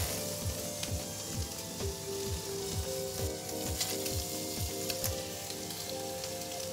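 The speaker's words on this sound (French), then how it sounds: "On va les passer un petit peu à la poêle, mettre un tout petit peu d'huile d'olive." Squid and samphire sizzle and fry in olive oil in a pan, a steady close crackle with repeated soft knocks and stirring, no talking.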